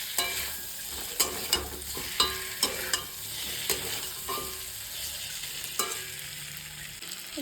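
Spice paste frying in hot oil in a pan while cooking Bengali fish curry, a continuous close sizzle broken by repeated sharp scraping clacks of a spatula stirring, with no talking.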